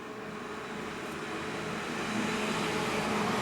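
Steady low rumble of street traffic drifting in through an open window, a truck growing slightly louder toward the end, with no one speaking.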